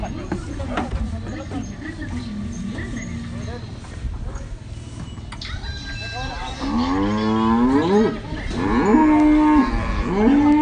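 Simmental cattle moo loudly and repeatedly, long drawn-out calls rising near the end, after a stretch of murmuring Indonesian voices and background chatter.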